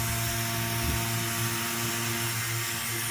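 A grinding tool whines steadily and continuously, close up, while it works the exhaust port of an Echo 670 chainsaw. No voices are heard.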